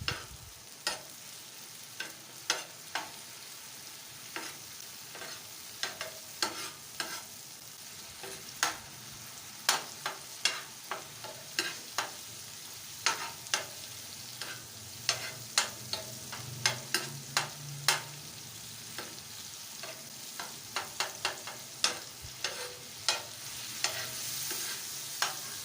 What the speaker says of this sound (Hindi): और अब टमाटर को अच्छे से भूनना है।